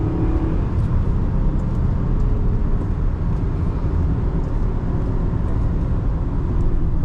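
A 2009 Toyota Camry XLE V6 drives into a turn. A steady, dense rumble of engine and road noise fills the cabin, constant and fairly loud, with no talking.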